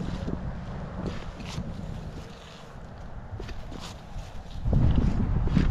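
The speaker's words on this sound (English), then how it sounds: "Boy, wind's starting to blow" Wind blows steadily outdoors at sunset, a continuous rushing noise with low rumbling buffets that grow louder and heavier near the end, with no talking.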